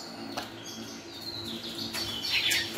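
An oriental magpie-robin singing, bright whistled phrases and chirps rising and falling over a low background hum, moderately close, with no talking.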